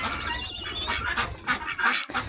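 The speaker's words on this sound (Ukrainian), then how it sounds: "От качки." Several ducks quack and squawk in a noisy, overlapping chorus close by in a village barn on a snowy morning, raspy calls coming in quick irregular bursts.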